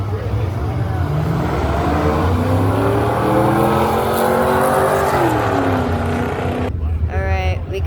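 A Firebird and a Ford racing side by side at a drag strip, engines roaring loud and close with rising, revving pitch before cutting off, as spectators chat over the noise.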